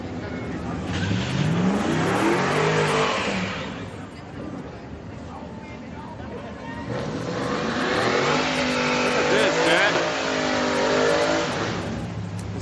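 Car engine revving hard and accelerating at a Friday night street car meet, two surging bursts of rising engine roar with a lull between, crowd voices mixed in.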